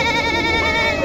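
A goat bleats with a steady, wavering cry at a busy goat market in Najipur, Naogaon, loud and close across the whole moment, with crowd murmur underneath.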